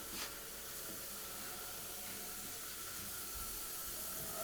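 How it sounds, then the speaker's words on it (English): A frying pan greasy with bacon residue is rinsed under a running sink tap, producing a steady, close hiss of spraying water that continues unbroken throughout. "we're gonna kind of off camera clean this pan out"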